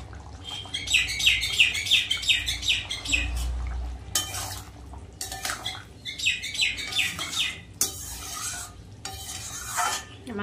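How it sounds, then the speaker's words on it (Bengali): A pair of common myna birds calling near a house, with two bursts of quick repeated chirps and harsh raspy squawks, close and fairly loud, alongside faint household clatter. "আমাদের বাড়িতে দুটো শালিক পাখি আছে জোড়া,"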